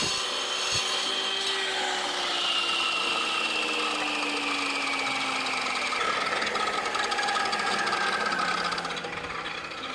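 A power tool cutting patio pavers while a sinking patio is repaired, a steady loud grinding whine holding throughout with a slowly falling pitch as the blade bites into the stone.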